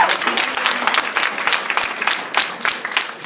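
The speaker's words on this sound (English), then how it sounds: "Let's give them another round of applause," An audience at a foster care reform event applauds a foster parent panel, a brisk round of close, crisp claps that stays fairly even from start to finish.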